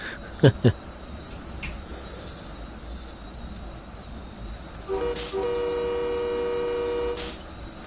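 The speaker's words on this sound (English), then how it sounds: "It's quite a nice horn." A simulated train horn from the video game Train Sim World 2, on a Northeast Corridor Boston Sprinter, sounds a sustained tone after two short toots, ending abruptly, over steady cab noise.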